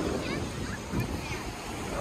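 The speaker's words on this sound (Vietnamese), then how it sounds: "tiếng sóng biển" Sea waves rolling onto Carmel beach on a cold day, a steady broadband wash of surf with wind buffeting the microphone, continuous and fairly close.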